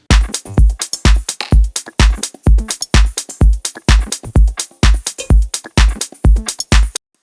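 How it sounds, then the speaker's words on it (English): Drum pattern from a minimal house edit, punchy kicks and crisp hits in a steady, looping groove with delay effects, loud and upfront, no talking. "So the drums together, they sound like this."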